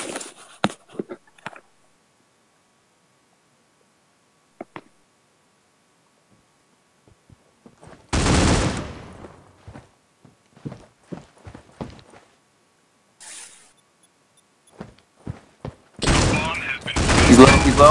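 Gunfire in the mobile shooter Critical Ops: two loud rapid bursts of automatic fire, one near the middle and one at the end, separated by scattered soft footsteps and clicks in otherwise quiet game audio.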